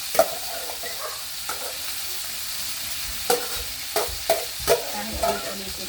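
Parboiled vegetables sauté in a pan, a low sizzle broken by several sharp scrapes and knocks as they are stirred and tossed, close by and without speech.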